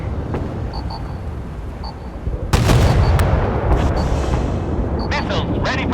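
Naval guns fire in the warship game Force of Warships, with a sudden loud booming blast midway, then rolling rumble and further sharp reports, over an ongoing low battle drone and occasional beeps.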